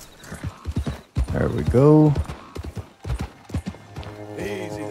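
Horse hooves clip-clop and a horse gives a whinny in the open world of Red Dead Redemption 2, with scattered hoofbeats and game effects and someone talking briefly.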